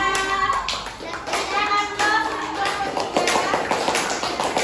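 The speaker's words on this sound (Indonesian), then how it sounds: "Tepuk tangan untuk kelompok 3." A class group claps hands together in a short burst of applause in a classroom, close by, with children's voices mixed in.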